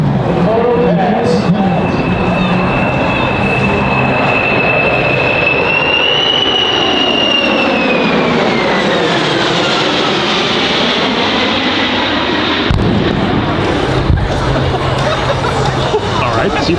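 A C-5M Super Galaxy military transport jet makes a pass at the Dover Airshow: a loud, sustained engine roar with a whining tone that bends in pitch as it goes by, over a faint crowd murmur.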